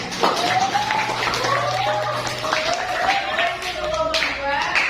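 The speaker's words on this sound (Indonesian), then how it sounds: "Kita beri tepuk tangan untuk kelompok 2." A classroom gives brief applause for a student group after its presentation, quick clapping close by at the start, followed by a teacher speaking over a low background hum.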